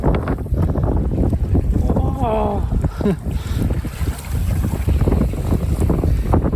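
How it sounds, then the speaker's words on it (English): Strong wind buffets the microphone with a constant, heavy roar outdoors among rocks in Algonquin's Barron Canyon, and a voice briefly exclaims partway through. "A little windy out here."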